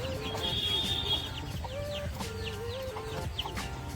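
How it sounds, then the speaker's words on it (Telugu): A hen and her small chicks at a tree-shaded resort in Kanakapura near Bangalore cluck, with thin high chick peeps scattered over a steady low clucking, nearby and moderate in level, and no one speaking. "కోడి పిల్లలు కూడా ఉన్నాయి, కోడి కూడా ఉంది."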